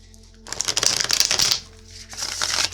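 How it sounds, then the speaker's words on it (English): A deck of cards is shuffled up close in two crisp, riffling bursts with a short pause between them, over a quiet low hum. "as I'm shuffling these cards, they are being very particular"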